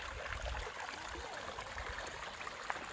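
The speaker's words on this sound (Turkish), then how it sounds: "Buradan güzel bir su akıyor." A small waterfall and stream flowing over rocks, a soft, steady rush and trickle heard from close by, fairly quiet, with no talk over it.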